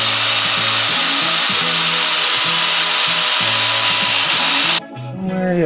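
A power tool trims an aftermarket front bumper for a 2015 Subaru WRX, a loud close whine with repeating rhythmic grinding pulses that cuts off near the end.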